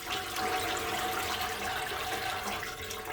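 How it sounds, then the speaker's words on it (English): Homemade vegetable stock pours steadily into a kitchen colander and drains through, giving a continuous close splashing, trickling wash of liquid that holds a roughly even level throughout. "now I'm going to slowly pour the rest of the stock into the colander and let it drain through"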